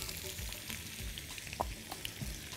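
Onions sizzle in a frying pan, a steady close hiss with occasional soft stirring taps and no talk.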